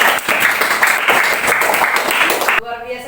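A classroom of children applauds, a dense and loud wash of clapping that carries on steadily and then cuts off abruptly near the end, where a brief tonal sound follows.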